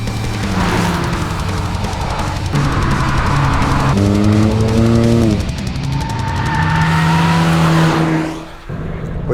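A car pulls out onto the street, its engine loud and close as it climbs through the gears with rising, falling pitch, then eases off near the end.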